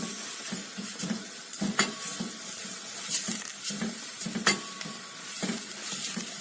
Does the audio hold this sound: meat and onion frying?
yes